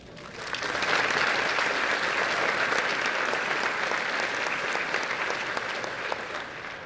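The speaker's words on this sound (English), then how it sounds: "Central High School class of 2025, please give yourselves a round of applause" The Central High School class of 2025 applauds itself at a graduation ceremony, a large crowd's clapping that swells within the first second and then holds as a broad, even roar before easing slightly at the end.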